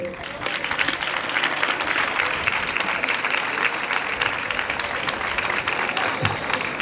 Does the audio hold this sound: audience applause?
yes